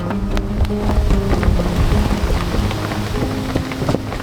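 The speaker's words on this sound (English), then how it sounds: "Here comes the rain." Steady rain from a squall patters and hisses across a sailboat on the Pacific, with wind and scattered drips and knocks, continuous and fairly loud throughout.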